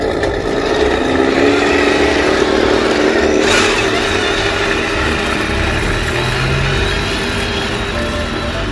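A 1/16 Tongde RC Centurion tank with plastic gearboxes, sprockets and tracks spins on the spot in a neutral turn, giving a steady, fairly loud mechanical whir and hum that holds for several seconds.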